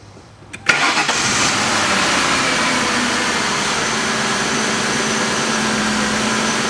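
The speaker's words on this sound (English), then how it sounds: "start the car" A car engine with a misfire cranks briefly and catches, then settles into a steady, loud running hum that continues to the end.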